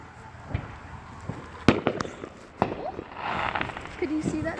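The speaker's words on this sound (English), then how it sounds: "whenever you hear the fireworks, you don't hear the boom whenever they go off" Fireworks go off outdoors with a series of sharp cracks and pops at uneven intervals, some louder bursts standing out over a steady crackling background and distant murmuring voices.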